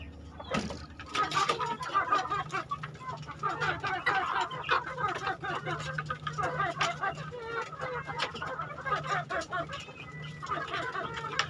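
Hens in a coop cluck continuously in busy overlapping bursts, close and fairly loud, with someone talking through much of it.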